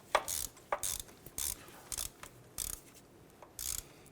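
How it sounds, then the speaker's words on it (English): Ratchet tightening a bolt during a speed sensor replacement on a 1993–1997 Ford Ranger, sounding as a series of short, crisp clicking bursts in an uneven rhythm, close up with no talk. "Let's go ahead and tighten up that bolt."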